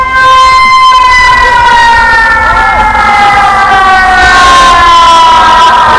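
A loud electronic siren blares from the speaker of a security drone outdoors, with a wailing tone that sweeps steadily and sustains without a break for several seconds, close and dominant.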